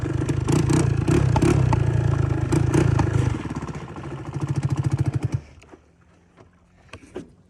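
A Honda Big Red three-wheeler's engine runs loud and close with a rough, fast chugging idle while towing a Suzuki three-wheeler, then rhythmic revving pulses before dropping away to scattered clunks and rattles.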